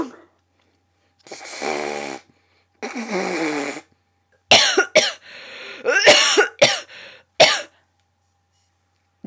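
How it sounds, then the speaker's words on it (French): Several separate coughing fits in a row, some harsh and dry, others wet and raspy with throat clearing. They are close and loud, broken up by short silences. "Des toux grasses"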